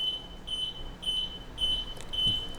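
A Go Go Sport mobility scooter sitting in neutral with its key on emits a repeating high-pitched electronic beep, about every half second, steady and moderately close.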